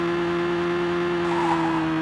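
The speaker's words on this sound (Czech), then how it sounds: "Jo, to je zvuk motoru." A steady, droning car engine hums at a constant pitch with slight rise, the synthetic tone of a racing game, no talking.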